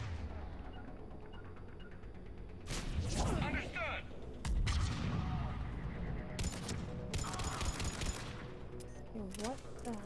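Mass Effect 3 firefight with repeated loud bursts of gunfire and heavy blasts, separated by short gaps over a steady battle din, while a voice talks underneath.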